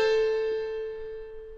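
A single note from a cheap-sounding piano in FL Studio rings out clearly and decays slowly over more than a second, alone and fairly quiet.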